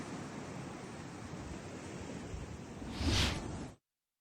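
Sea waves surge steadily onto the Dwarka shore on the Gujarat coast under strong wind ahead of a high-wave forecast, a continuous broadband roar with one louder crash near the end before it cuts off.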